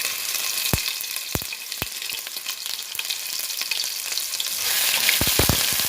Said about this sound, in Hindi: इसको हल्का सा फ्राई करेंगे, बहुत ज़्यादा ब्राउन नहीं करना।